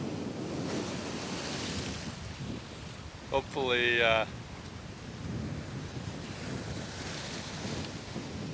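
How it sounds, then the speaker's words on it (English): Ocean waves surge and splash up over the shore at a Caribbean beach resort on Cayo Santa Maria, a steady windy wash of surf throughout, with a brief spoken word near the middle. "it's the waves splashing up over"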